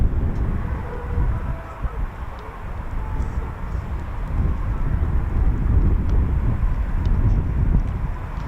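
Four Eurofighter Typhoon FGR4 jets fly over RAF Coningsby, giving a steady, loud, broadband roar that rumbles on for several seconds with no talking.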